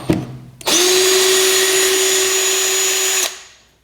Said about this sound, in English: This comes with 4 shipping brackets attached to the skid. It's got Phillips headed screws.